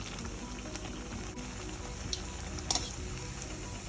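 Mushrooms deep-frying in oil for roadside-style kaalaan, a steady dense sizzle and crackle with occasional sharper pops, close and continuous.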